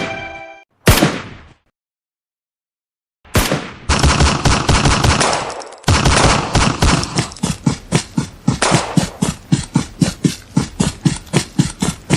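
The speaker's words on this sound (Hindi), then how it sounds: "यहाँ पटाखे नहीं गोलियां चल रही है" Gunfire in an animated cartoon battle scene: a sharp bang, a pause, then sustained rapid machine-gun bursts that settle into a steady rhythmic string of loud shots, with no talking.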